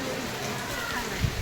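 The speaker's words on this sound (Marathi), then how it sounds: "कंटिन्यू पाऊस चालू आहे" Continuous rain falling outdoors on a cool day, a brief steady hiss and patter with a soft thump near the end.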